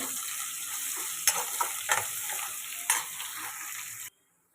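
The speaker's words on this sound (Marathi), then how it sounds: "आपण त्याच्यामध्ये कांदा टाकून घेऊया कांदा छान सोनेरी करून घ्यायचा आहे" Onion frying in hot oil for a mutton dish sizzles steadily, broken by a few sharp stirring scrapes and clinks, then cuts abruptly to silence.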